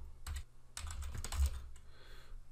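Typing on a computer keyboard while entering VBA code, short bursts of close keystrokes with brief pauses between them, fairly quiet and with no voice.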